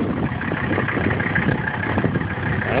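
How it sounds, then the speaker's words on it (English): A 1984 Mercedes-Benz 300D turbo diesel engine runs steadily close by, a rough, gravelly rumble holding a fairly even level for under three seconds; no clear rise of turbo whine and no speech. "Let's get turbocharger spooling up."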